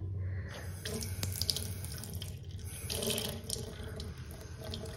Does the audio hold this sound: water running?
yes